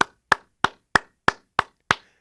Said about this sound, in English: I'll give you your round of applause.